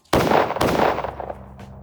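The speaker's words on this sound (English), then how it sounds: "They're just shooting people in the streets now." Heavy gunfire from soldiers shooting in the streets in the video game Pathologic: two loud, sharp volleys in quick succession, booming close and then rumbling away into a fading tail, with no talk.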